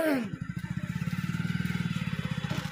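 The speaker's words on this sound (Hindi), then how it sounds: "मोटरसाइकिल बंद करके सुन लीजिए। हाँ ना तब वो बंद कर दीजिए, आवाज कैच कर रहा है गाड़ी का" A motorcycle engine idles close by in a village, its steady rapid thudding pulses running continuously under a faint background murmur.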